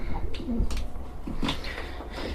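Pigeons coo softly at close range in a brief, quiet burst of low murmuring calls.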